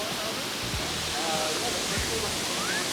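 A waterfall in El Salvador pours as a steady, dense broadband rush that fills the whole moment without letup, with no voices over it.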